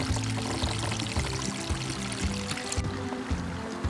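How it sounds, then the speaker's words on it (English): Seasonal runoff water pouring and streaming steadily across a homestead, a continuous close rushing flow with low gurgling pulses underneath, no voices present. "there's no shortage of water coming through here."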